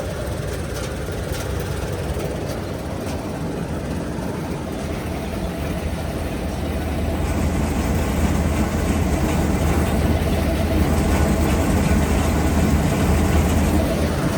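A Kartar combine harvester's large engine runs steadily nearby, a dense rumbling drone that grows slightly louder midway, with a faint high whine and no voices.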